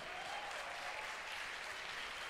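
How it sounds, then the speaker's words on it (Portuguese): Steady applause from a church congregation during a prophetic conference, a dense wash of clapping that holds evenly throughout with no pauses. "Aplaude a Jesus aí"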